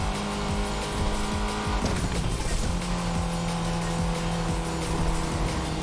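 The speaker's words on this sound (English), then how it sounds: "I want to show you what it's like when the car slides around." A Lotus Exige S in the Need for Speed Unbound racing game, engine droning steadily as the tires squeal and skid while the car slides over corner curbs, loud and continuous with no talk.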